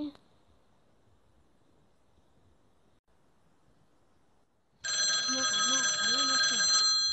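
Telephone ringing on an outgoing call, a steady electronic ringback tone with a warbling pattern that begins suddenly after a few seconds of near silence and continues loudly to the end.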